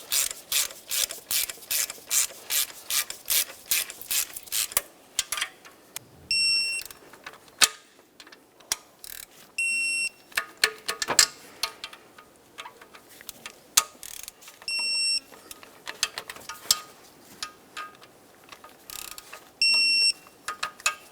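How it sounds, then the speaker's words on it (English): Mounting hardware on a 2006-2011 Honda Civic exhaust manifold and catalytic converter assembly is run down with a ratcheting tool, producing bursts of rapid, close clicking and rasping with short pauses and a few sharp beeps between runs. "we'll bottom out each one of our pieces of mounting hardware and then torque them to 23"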